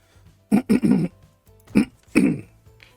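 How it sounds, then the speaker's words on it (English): A person coughs hard and throatily at close range, several harsh bursts: a quick pair, a longer rasp, then two more spaced out, each separated by quiet. "ever cough so hard it makes your head swim?"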